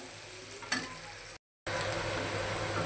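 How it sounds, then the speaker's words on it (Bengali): Onion frying until golden brown for a quick khichuri makes a continuous bright sizzle, with one stir clatter early on and a short silent gap midway. "পেঁয়াজটা বাদামি করে ভেজে নিব।"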